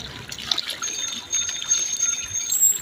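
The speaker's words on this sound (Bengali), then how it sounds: "প্রতিদিন যখন এই পুকুরে খাবার দেওয়া হয় মাছরা এমন উত্তাল পাতাল ভাবে চলে আসে" Pangasius fish churning and splashing in a pond at feeding time, a steady watery sloshing with brief louder surges throughout, no talking.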